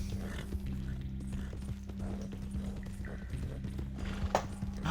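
Horse hooves clip-clop in a video game, a quick steady patter of footfalls over a constant low engine-like drone and game music, fairly close and moderately loud throughout.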